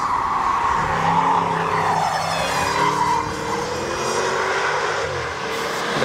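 A high-performance SUV, a BMW iX M60 or Porsche Cayenne Turbo SE Hybrid, roars loudly and steadily while accelerating hard on a racetrack lap, with tire noise underneath and no talk.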